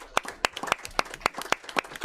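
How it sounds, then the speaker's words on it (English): A small group claps at a county board meeting, giving a short round of applause: quick, close, uneven hand claps at a steady pace with no cheering or talk. "So if we could give him a round of applause if he's watching."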